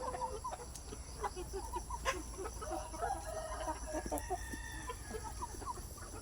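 Chickens on a native chicken farm, a plucker crossed with Aseel bloodline, cluck steadily in a dense chorus, with occasional sharper calls and a distant rooster-like crow amid constant farmyard ambience.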